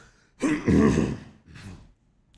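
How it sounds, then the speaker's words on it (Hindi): One rough, breathy cough from a person close by, followed by a short second exhale, then quiet. "ब्लैक रॉक कहते ही खांसी आ गई"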